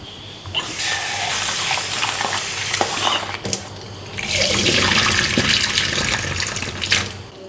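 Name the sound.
washing urad dal in water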